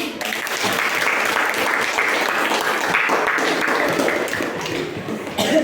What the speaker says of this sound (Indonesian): Tepuk tangan kembali.